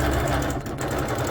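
A BERNINA Q-series sit-down longarm sewing machine runs at a steady, even hum with a fast rhythmic stitching pulse, close and continuous, with no talking.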